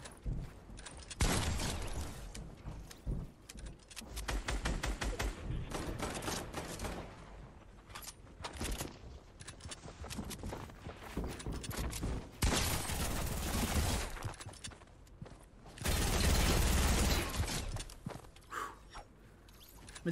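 Rapid bursts of automatic gunfire crackle through a Fortnite solo-versus-squads match, heavy volleys coming in waves with brief lulls between, loud and close throughout.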